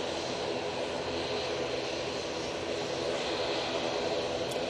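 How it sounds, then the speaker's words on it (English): An EasyJet airliner's jet engines give a constant broadband roar at Manchester Airport, fairly distant and steady, with no talk. "EasyJet coming on"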